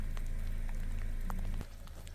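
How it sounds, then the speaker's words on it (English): Steady rain patters on surfaces near Camp Creek, a dense close hiss with occasional sharper drops, and a low rumble that cuts off abruptly partway through, leaving softer rainfall. "it's starting to rain a little bit more"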